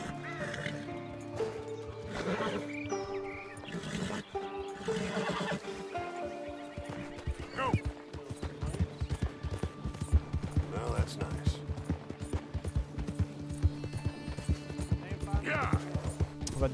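Horse whinnying and hooves clip-clopping in Red Dead Redemption 2, amid game music and other sounds, with a player talking over it.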